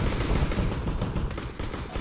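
Rapid bursts of gunfire in the shooter game CS:GO, loud dense shots rattling one after another through a short stretch, with no voices over them.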